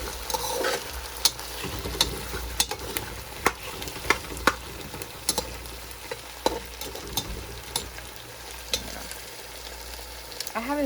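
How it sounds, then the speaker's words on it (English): Food sautéing in a pan, a steady low sizzle broken by frequent sharp scrapes and clacks of a utensil stirring, fairly quiet and close with no talking. "once this is finished frying and cooking for a few minutes"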